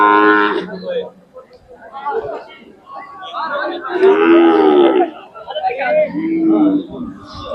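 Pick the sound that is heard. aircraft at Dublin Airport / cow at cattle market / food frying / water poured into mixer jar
cow at cattle market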